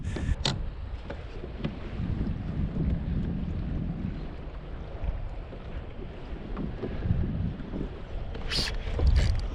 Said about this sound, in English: Unfortunately, this wind just picked up a little bit.